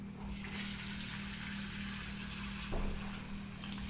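Water is poured onto lentils in a bowl for soaking, a steady rushing gush with a brief louder splash partway through, close and continuous with no talk.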